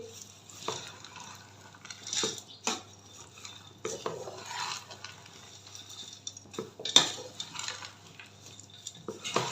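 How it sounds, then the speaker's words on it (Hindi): Dry panjeeri ingredients being stirred together in a bowl, with repeated scraping and clinking of a spoon against the bowl in irregular strokes, close and fairly quiet, no talking. "इन सब चीज़ों को अच्छे से मिक्स करेंगे।"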